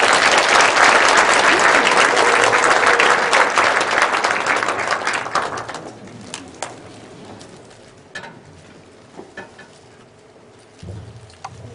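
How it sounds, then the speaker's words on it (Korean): An audience at a lecture welcomes a professor with warm applause, loud and dense for about six seconds before thinning into scattered claps, with a brief murmur at the end. "뜨거운 박수로 맞이해 주십시오."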